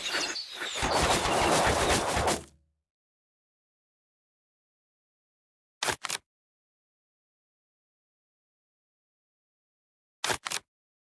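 Gunfire in the mobile strategy game Road To Valor with the Indian faction: a dense loud volley of rapid shots lasting about two seconds, then silence broken by two short paired bursts of shots.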